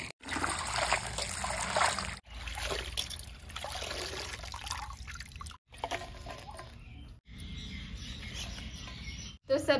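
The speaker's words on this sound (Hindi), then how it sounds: "अब इन पत्तों को दो तीन बार अच्छे से धो लेंगे" Poi saag leaves are rinsed in water, a steady close trickle and splash of running water with soft rustling, broken by a few brief silent cuts.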